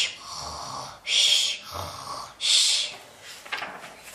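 A voice imitates a man snoring: a few breathy, rasping snore sounds in a slow rhythm, close and fairly loud, with short pauses between them.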